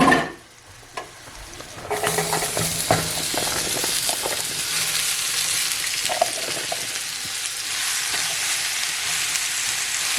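Carrots, green onion, yellow onion and garlic fry together in one pan, opening with a few clatters before a loud, dense, continuous sizzle takes over and holds steady up close.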